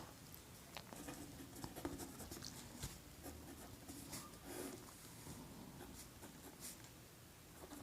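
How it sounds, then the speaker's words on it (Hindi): Pen writing on paper while working a Class 12 determinants math problem: faint, steady scratchy strokes and small taps, close up, under a quiet background hiss. "चलिए लिखते हैं।"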